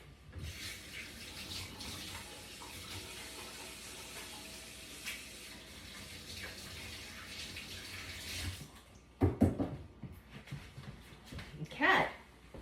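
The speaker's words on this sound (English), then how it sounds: "Let me rinse my hands." Hands are rinsed under a running kitchen tap, a soft steady water rush that swells into louder splashing bursts near the end, with some faint voice in the background.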